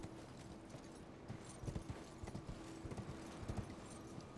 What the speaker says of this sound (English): Jesus Christ, this horse.